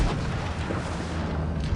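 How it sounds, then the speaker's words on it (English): An E 50 tank cannon fires in a tank video game, a heavy booming blast that fills the short moment, loud and dense, with rumbling low end and no talking. "Advance and put a shot into this Indian Panzer."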